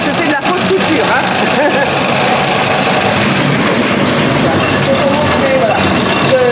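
A pedal-driven sewing machine in a shirtmaking museum runs while stitching a practice seam, making a loud, continuous mechanical whir and rattle, with a voice talking over it.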